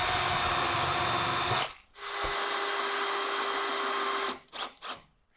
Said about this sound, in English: I'm going to mark and pre-drill for some screws right here